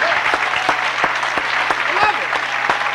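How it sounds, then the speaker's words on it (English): Audience clapping at a 1998 Narcotics Anonymous unity convention gathering, a dense burst of hand claps from a sizeable crowd, close and loud, with a few sharper individual claps standing out. "give ourselves a round of applause"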